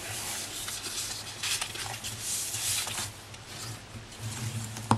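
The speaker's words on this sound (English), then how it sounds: "and we will fold and burnish all of these score lines" Scored cardstock being folded and burnished, heard as soft, close rubbing and scraping strokes of uneven length with a faint low hum underneath and a small tap at the end.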